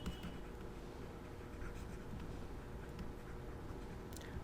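Pen scratching across paper during an answer-writing practice session, a quiet continuous scribble with faint strokes and no talk.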